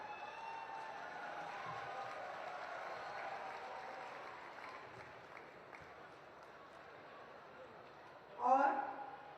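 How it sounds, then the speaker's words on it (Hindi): A crowd applauds a young investor from Bareilly at a gathering of community dignitaries, a broad, steady wash of clapping that fades slightly, then ends with a brief louder burst. "तालियां इस यंग इन्वेस्टर को, जो कि 100 करोड़ के रेवेन्यू जनरेट करते हैं"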